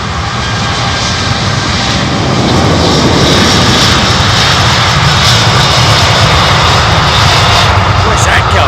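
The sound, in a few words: jet airliner rumbling at London Heathrow Airport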